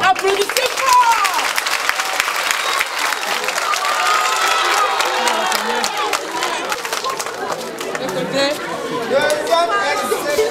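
Applause and cheering from a crowd at a children's sponsorship awards ceremony in Togo, with steady clapping and excited chatter filling the whole stretch, loud and continuous with voices mixed throughout.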